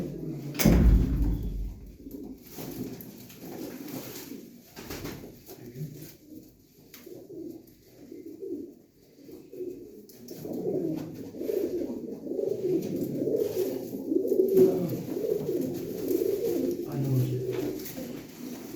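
Pair of pigeons cooing at a bird sale, soft low repeated coos running steadily under and between voices, moderately near.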